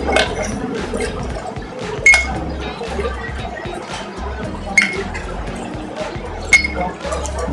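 Lemonade poured over four ice cubes in a glass in a cooking video game, with clinking ice and liquid sounds, several sharp glassy clinks standing out over a soft pouring wash.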